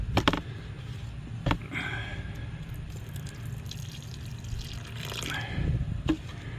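Water trickles and splashes as it is added to a wet grout mix for a natural stone veneer wall, giving a steady close pour with a few sharp knocks and drips.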